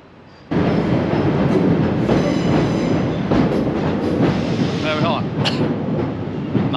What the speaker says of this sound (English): the train completes its journey into Portsmouth and Southsea Station